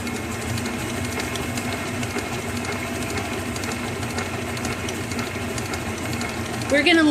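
An electric stand mixer creams sugar and butter for cranberry oatmeal cookie dough, giving a steady close motor whir that runs throughout. A voice speaks over it and a short clatter comes near the end.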